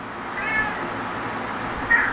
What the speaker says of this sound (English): The cat's in heat.